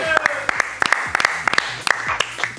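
Studio audience applause on a Spanish-language TV show, opening its new karaoke segment: moderate clapping with sharp individual claps and whoops mixed in, steady over a short stretch with a voice calling out beneath.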